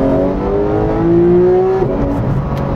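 A Porsche 911 GT3 (991.1) engine revs hard and close, its steady high pitch climbing until a sharp shift near the end, loud and continuous with no talk.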